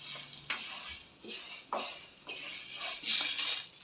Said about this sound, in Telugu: మొదట శనగపప్పు వేసుకోవాలి.